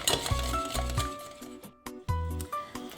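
A utensil stirs a honey mixture in a pot over medium heat, producing close, repeated clinks and scraping taps against the metal in an irregular rhythm, with faint sizzling between the strokes.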